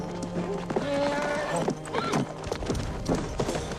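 A horse in a Clint Eastwood Western whinnies loudly with rising and falling cries, followed by steady clip-clopping hooves, busy with other film sound throughout.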